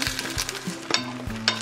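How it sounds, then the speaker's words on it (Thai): Egg frying in a pan, a close, steady sizzle broken by a few sharp scraping and tapping strokes of a utensil. "ทอดไข่แล้วก็จะผัดผักลันเตานะคะกับกุ้งนะคะ"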